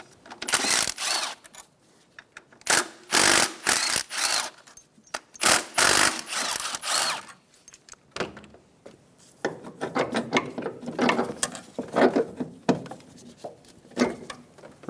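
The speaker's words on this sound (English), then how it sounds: "Using a 15mm socket, remove the 3 bolts." Ratchet of a 15mm socket wrench clicking in quick bursts as three engine mount bolts come out of a 2012-2020 Chevrolet Sonic, close and fairly loud, with metallic scraping and pauses between runs.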